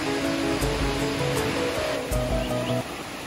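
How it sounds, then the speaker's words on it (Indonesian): A village river used for bathing and washing rushes steadily with a broad, continuous wash of flowing water, close and fairly loud, with faint tonal calls faintly audible in the background. "Dan ini dia sungainya yang biasa dipakai untuk mandi atau mencuci mereka di sini."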